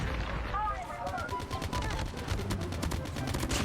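Rapid bursts of automatic gunfire crackle in Call of Duty Mobile as a gun is fired at long range, with a voice talking over the shots.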